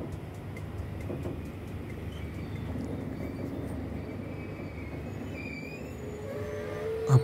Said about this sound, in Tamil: வேறு ரெயின் ஒன்று பாஸ் ஆகுது, வேறு வேறு ஸ்பீட்டில் போகுது